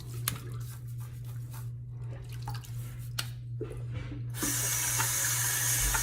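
Water runs steadily from a bathroom tap while the face is wetted before a shave with lathering soap, a soft continuous trickle that swells louder and brighter near the end, with no talking.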